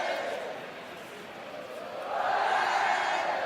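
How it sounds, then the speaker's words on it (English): A large rugby stadium crowd in the Rugby 18 video game roars steadily in a wide, echoing space as a kicker lines up, the cheering swelling louder near the end. "The crowd are being very vocal as Carter lines this kick up."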